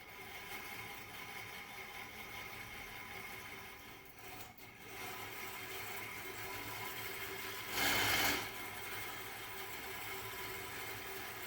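A Zebco fishing reel is cranked to spool on fresh line, giving a low, steady mechanical whir at a faint level, with one brief louder rustle partway through.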